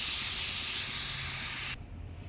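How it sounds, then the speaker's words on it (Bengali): Eggs and onions sizzle in a hot pan on a gas stove, a steady bright hiss that cuts off abruptly near the end, leaving a faint background. "এই যে ডিম দিয়ে বাইজা তুলছি, পেঁয়াজ বসাই দিচ্ছি ডিমের নিয়ে"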